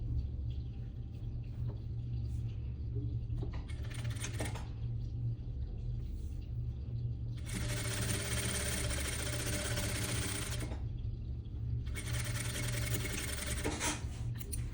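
A sewing machine stitches a suit seam in two loud bursts of rapid running, separated by quieter pauses with handling noise over a steady low hum.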